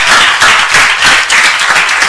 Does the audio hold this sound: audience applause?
yes